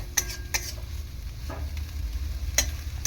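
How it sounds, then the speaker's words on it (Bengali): Kochu shak (taro leaves) with prawns and garam masala is stirred in a hot pan, with a soft sizzle under several sharp scrapes and clinks of a utensil against the pan, spaced irregularly. "গরম মশলাটা দিয়েছি বলে একটু ভালো করে নাড়াচাড়া করে নিলাম"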